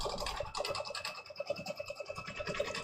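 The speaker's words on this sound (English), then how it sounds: "It's going to do the tack down stitch and go right straight into the background quilting." Embroidery machine sewing a tack down stitch on a quilted project, a quiet rapid rhythmic ticking and scratching of the needle at a steady pace, close by and without talk.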